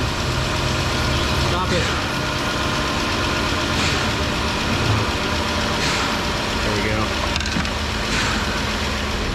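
A failing car engine on the verge of blowing up keeps running, with a loud, rough, steady idle close by and people talking over it.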